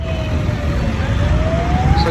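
A wailing fire truck siren slides slowly up and down in pitch over a low rumble of traffic, moderately distant, as the truck arrives at a scrapyard and vehicle fire in a village.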